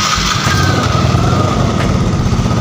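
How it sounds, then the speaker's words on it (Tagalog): A motorcycle engine runs at idle close by after an electric-starter start, a steady loud rumbling putter that holds constant without revving. "Gumagana po yung kanyang electric starter."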